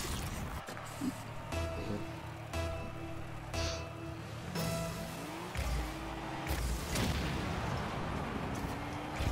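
Repeated explosions in the car-football video game Rocket League, loud booming bursts with broad rumble and noisy crackle spread through the stretch over steady game noise and engine drones.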